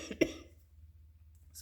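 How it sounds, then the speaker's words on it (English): A single short cough from an adult with asthma bursts out near the start in a quiet indoor room, followed by faint low background hum. "Excuse me, don't start coughing."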